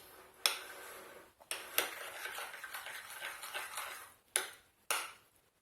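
A spoon stirs almond powder into almond yogurt in a bowl for a gluten-free, dairy-free almond galette, giving a steady close scraping with a few sharp clinks against the bowl.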